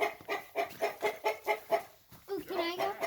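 Farm chickens cluck in a rapid, even series of close, loud calls, pause briefly, then break into a more agitated, drawn-out squawk.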